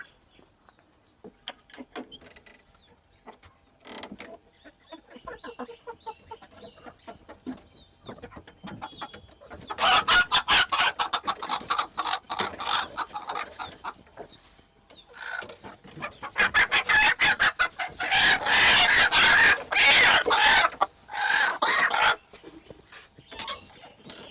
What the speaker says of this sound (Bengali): আমার নিজের হাতে পোষা দেশি মোরগ